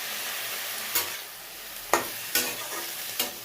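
Fenugreek greens with green chilies, salt and turmeric fry in a pan, a soft steady sizzle broken by four sharp scraping stirs, close and fairly quiet, with no talking.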